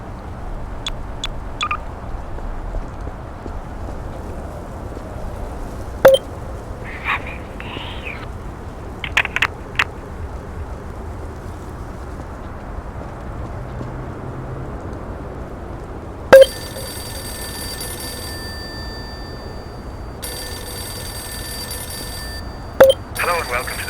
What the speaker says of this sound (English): there's a telephone in the middle of the park that apparently when it rings, you're able to answer it